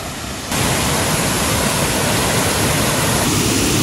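Bhupra waterfall in South Goa gives a loud, continuous rushing roar of flowing water close by. After a quieter opening moment it becomes dense and unbroken, with no voices.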